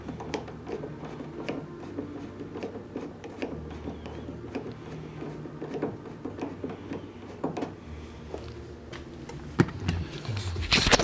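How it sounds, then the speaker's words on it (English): A Phillips screwdriver works a screw out of window trim, giving faint repeated clicking and scraping ticks with small metallic rattles, then a louder clatter near the end. "we're going to take our Phillips screwdriver, stick that down in there"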